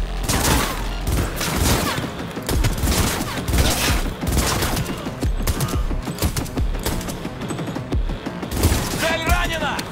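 Dense, rapid shooting in the video game Cyberpunk 2077, with rattling bursts and mechanical clatter going on without a break, loud and close.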